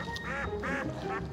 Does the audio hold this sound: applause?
no